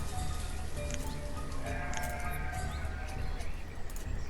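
Sheep bleat in a pasture in the Banished city-building game, several overlapping calls against a constant, busy background of game ambience.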